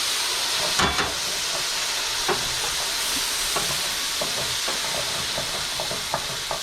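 Broth poured into a hot pan of onions sets off a steady hiss and sizzle, with faint scraping and stirring clicks scattered over the continuous bubbling.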